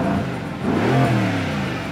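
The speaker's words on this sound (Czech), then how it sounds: "A když se to auto rozjede a přitom slyšíte tenhle zvuk." Mercedes-AMG GT S with a twin-turbo V8 accelerating, its engine note rising in pitch as it pulls away, loud and close from inside the car, with no talking.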